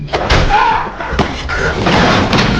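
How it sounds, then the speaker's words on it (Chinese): Heavy blunt impacts as a hammer strikes a man during a violent fight in the horror thriller film Don't Breathe, with several loud thuds and slams in quick succession over a dense, noisy action soundtrack. "用锤子袭击了对方"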